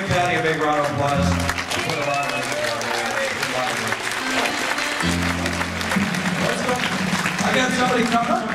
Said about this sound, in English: And give Patty a big round of applause.